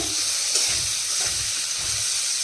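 Bottle gourd with lentils sautéing in a pan gives a steady frying sizzle, with soft rhythmic scraping or stirring pulses beneath it, close and continuous.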